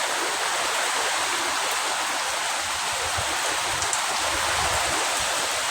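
Floodwater pours across ground after heavy rain, a constant close rushing hiss with no pause or voices.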